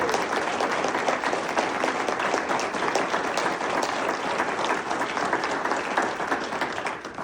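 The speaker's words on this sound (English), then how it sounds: "let's give our young alumni one more huge round of applause" A large audience gives loud, sustained applause for young alumni at a celebration event, a dense continuous roar of clapping that holds steady before easing slightly at the end.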